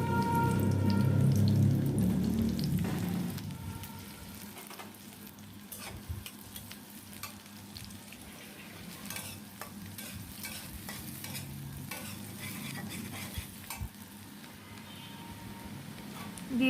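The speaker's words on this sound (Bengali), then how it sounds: "আমি কড়াই পরিমাণ মতো সরিষার তেল দিয়ে দিচ্ছি। এখন দিয়ে দিচ্ছি পেঁয়াজ কুচি পরিমাণ মতো। পেঁয়াজটা হালকা ভেজে নেব।" Chopped onion fries in mustard oil in a wok, a loud hissing burst as it hits the hot oil that settles into a steady close sizzle with occasional stirring scrapes and pops.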